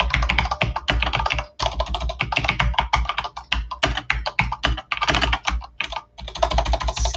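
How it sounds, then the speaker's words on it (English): Fast, steady typing on a computer keyboard produces dense, continuous clicking with only brief pauses, close and loud, with no voices. "I'm sure you can hear from the amount of backspacing that I'm doing"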